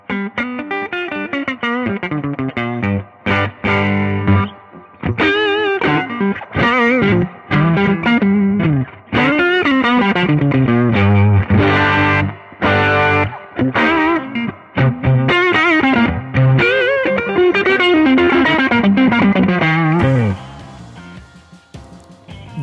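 An electric guitar with a push-push tone button engaged plays chords and runs with a gritty, overdriven tone, notes ringing in bursts with short gaps before a final sustained chord fades out.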